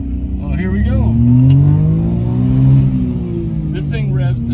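The 550cc three-cylinder turbocharged engine of a 1987 Suzuki Alto Works RS-X revs up and holds a rising, buzzy note from inside the car, with a person talking over it.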